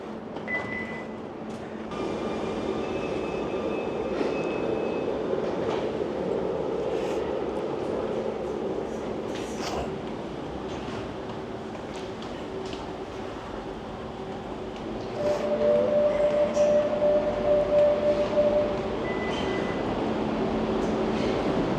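A Barcelona metro train sits in an underground station, its motor hum and rumble steady throughout, with clanks and a rising electric whine as it grows louder toward the end, amid station ambience.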